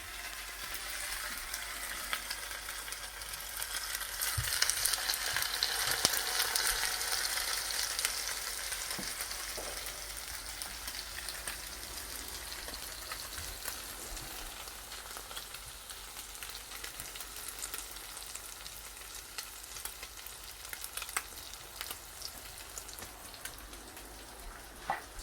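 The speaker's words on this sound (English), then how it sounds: "And then into the pan goes the eggy bread." Eggy bread fries in hot oil in a pan over medium-high heat, a steady, close crackling sizzle that runs throughout, briefly louder near the start.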